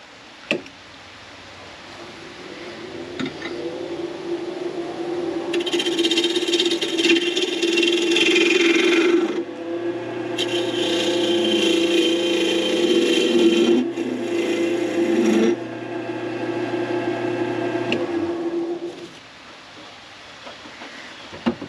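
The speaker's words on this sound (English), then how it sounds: "now we have to put a tenon on the end so that we can put it in a chuck to hollow it out" A pear wood blank spins on a lathe as a tenon is cut on its end, with a steady motor hum broken by long, loud grinding scrapes of the tool against the wood, several passes with short pauses between.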